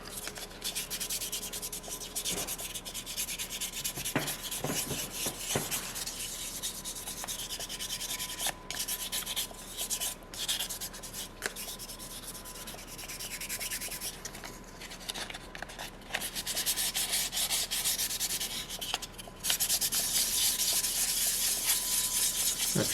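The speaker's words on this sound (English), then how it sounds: "Just going to scrub everywhere." Sandpaper scrubbing over a soapstone seal carving, a continuous gritty rasp of back-and-forth strokes, close and steady for the full stretch with brief pauses and no talking.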